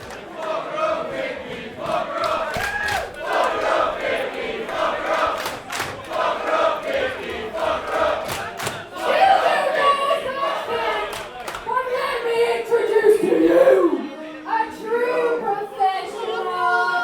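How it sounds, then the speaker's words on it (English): Wrestling show crowd cheering and shouting in an arena, a rowdy mix of yells, chants and scattered claps rising in bursts, with voices talking and calling out throughout. "Listen to the crowd."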